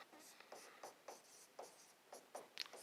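Equations for an electrostatics physics lesson being written by hand, a quiet series of short pen strokes and scratches on paper in an irregular rhythm, close and faint, with no talk.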